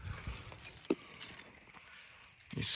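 Car keys for a 2024 Chevy Malibu LT 1.5 turbo jangle close by in a few short, bright metallic bursts, separated by quiet moments and light handling noises.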